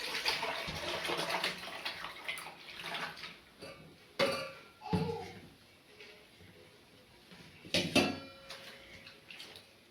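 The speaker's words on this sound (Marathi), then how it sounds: "तर ह्याच्यात थोडंसं पाणी घेते म्हणजे ह्याच्यातून ह्याच्यात ट्रान्सफर करायचं आहे." Water is poured from one metal cooking pot into a larger pot in a home kitchen. Splashing pours come with clinks of metal and rise to louder bursts twice, heard close up with no talk.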